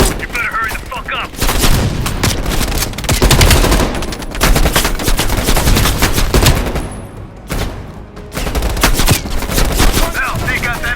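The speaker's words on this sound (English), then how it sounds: "Watch it. Heavy MG on the ridge." Heavy machine gun firing from a ridge in Call of Duty: Black Ops Cold War, loud sustained bursts of automatic fire mixed with other gunfire and occasional booms, with a brief lull midway before firing resumes.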